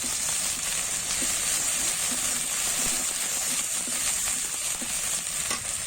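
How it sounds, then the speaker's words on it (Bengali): Chicken curry cooking with cardamom, bay leaf and onion paste, stirred in a hot pan, steady close sizzling and frying hiss with faint scraping of the spoon throughout. "এরপর আরও কিছুক্ষণ নাড়াচাড়া করে নিব।"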